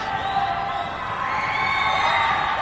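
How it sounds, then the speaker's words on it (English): A basketball crowd at Oregon Tech makes steady, loud noise during free throws, a dense wash of shouting and whooping that swells slightly toward the end. "You hear the crowd making noise."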